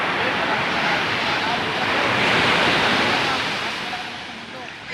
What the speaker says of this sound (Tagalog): Ayan po, nandito kami sa tabing dagat